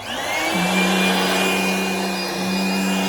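A Hoover Brushvac vacuum cleaner, used on cushions, whirs up quickly to a loud, steady motor whine that holds for the rest of the clip, close by and alone.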